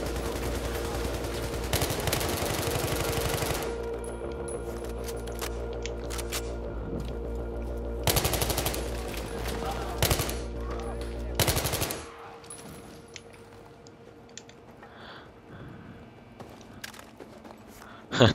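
Battlefield 3 gunfire erupts in loud sustained bursts of automatic rifle fire separated by quieter gaps, then drops to faint scattered clicks and small impacts near the end.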